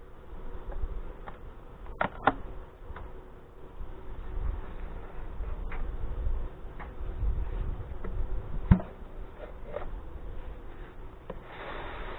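Saskatraz honey bees buzz around a hive on a hot day, a low, continuous droning hum with scattered faint clicks and one sharp tap.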